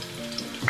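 Onion and garlic frying in a pan, a short burst of steady sizzle ending in a quick stir and a utensil clink, close by with no talking.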